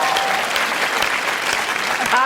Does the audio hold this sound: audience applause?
yes